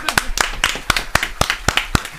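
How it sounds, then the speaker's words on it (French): A few people clap in a loose, uneven rhythm during a French-language Twitch stream, about ten distinct claps in quick succession, close and fairly loud with no talk over them. "On applaudit!"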